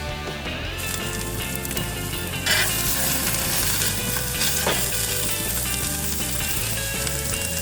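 Halloumi cheese sizzling on hot grill grates, a loud continuous frying hiss that holds steady throughout with a few brief crackles and no talking.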